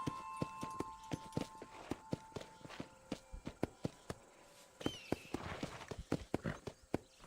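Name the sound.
horse hooves walking in video game Red Dead Redemption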